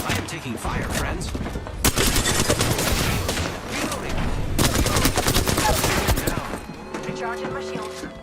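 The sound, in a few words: gunfire in the video game Apex Legends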